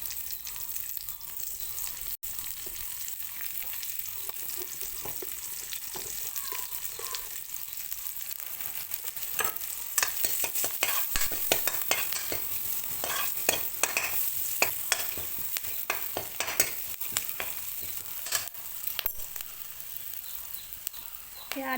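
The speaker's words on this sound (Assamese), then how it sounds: "এতিয়া আদা নহৰু পিঁয়াজবিলাক দি ভাজি লওঁ" Chopped ginger, garlic and onion fry in a little oil, a continuous close sizzle punctuated by frequent clattering stirs and scrapes of a spatula that grow busier and more rhythmic as it goes on.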